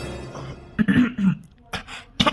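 A few short, harsh coughs and throat clearings come in quick bursts, close and fairly loud, with pauses between them.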